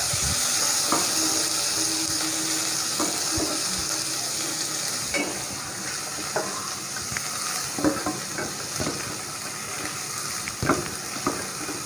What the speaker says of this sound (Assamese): মই এতিয়া ইয়াত বন্ধাকবি আৰু গাজৰখিনি ভাজি ল'ম